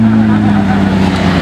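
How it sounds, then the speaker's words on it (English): Sports cars heading out on track at Monterey Car Week, a loud, steady engine drone with a sustained low tone, close by, under a voice talking. "Cars are going out on track."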